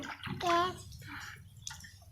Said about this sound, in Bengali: হাঁস এর মধ্যে দাও পানির মধ্যে দাও হ্যাঁ হাঁস ভেসে যাবে পানি এরকম ছিটিয়ে দাও